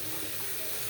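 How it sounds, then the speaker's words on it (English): Water runs steadily from a kitchen tap as a spatula is rinsed beneath it, making a constant close hiss with no pauses. "I rinse them off really good"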